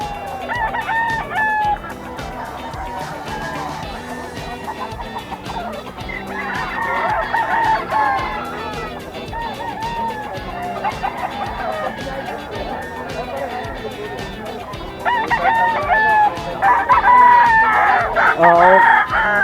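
A Sweater Kelso rooster crows repeatedly at a busy pet market, its calls rising over crowd chatter and other birds, with people talking nearby throughout.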